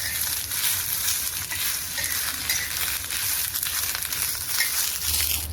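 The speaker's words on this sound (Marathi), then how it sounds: "त्यामध्ये लसूण टाकून घेते। ते छान खरपूस भाजून घ्यायचं।" Garlic roasts with green chillies in a pan for Maharashtrian green chilli thecha, a continuous close frying sizzle with occasional stirring scrapes, steady and fairly loud with no voices.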